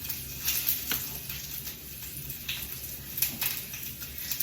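Linguiça sausage frying in a pan, a steady crackling sizzle with scattered pops and spits running throughout at moderate loudness, no voices over it.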